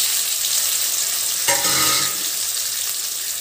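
Raw banana pieces and curry leaves frying in oil, Andhra style, with a continuous bright hiss and a brief burst of stirring partway through.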